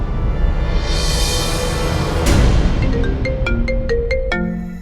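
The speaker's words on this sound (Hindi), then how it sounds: "मम्मी जी मेरी एक दोस्त का फोन आ रहा है" A phone ringtone plays a rising melodic sequence of bright electronic tones over steady background noise, repeating several notes before ending.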